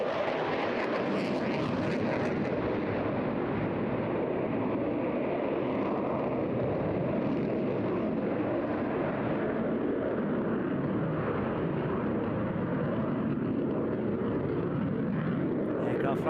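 A Eurofighter Typhoon jet flying a big barrel roll at the Eastbourne airshow gives a steady, broad roar that holds loud and unbroken throughout, with a voice talking over it.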